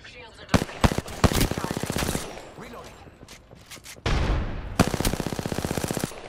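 Rapid automatic gunfire in Apex Legends, with bursts of sharp shots and sustained fire around a quieter gap, then another long, loud burst close up, with brief game voice lines.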